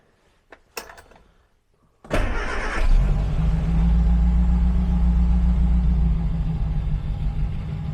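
A Morris 1300 with a freshly rebuilt fuel pump: a few faint clicks and a clunk, then the starter turns and the engine catches, settling into a steady close, loud rumbling idle with choke.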